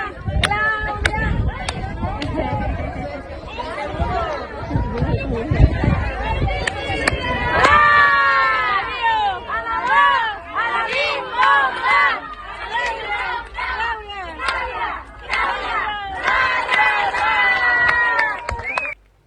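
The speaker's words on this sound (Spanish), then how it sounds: "Gritos. Claudia, Claudia, Claudia" A large crowd at a political rally in Acapulco shouts and then chants a name in loud, rhythmic repetitions, with cheering and babble throughout, close and dense.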